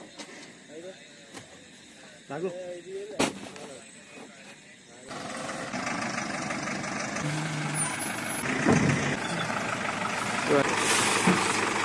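A loaded lorry sets off, with engine rumble, a hiss of air brakes and a beeping alarm, while people talk over it; the engine noise swells and stays loud and steady as the truck pulls away.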